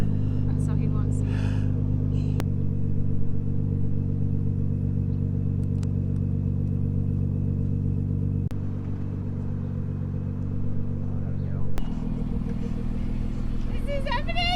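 A Nissan GT-R drives along at night with a steady low engine rumble and road noise throughout, interrupted by a few sharp clicks or thumps, while people talk over it inside the car.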